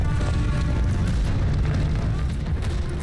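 A tank blowing up in Call of Duty Vanguard, a loud, sustained low rumbling boom that fills the whole stretch with dense roaring debris and fire noise and no clear gaps.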